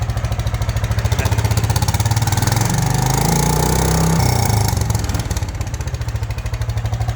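A John Deere tractor engine idles with a throaty, rapid putter through a motorcycle-style muffler, loud and close, briefly revving before settling back to a steady idle.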